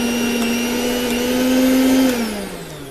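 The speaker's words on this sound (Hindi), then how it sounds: "यहाँ पर देख सकते हैं कि हमारा मिक्सी का साउंड बिल्कुल भी नया की तरह चल रहा है।" A repaired household mixer grinder runs with a steady, loud motor whine close to the microphone, its pitch rising slightly before dropping as it begins to wind down near the end.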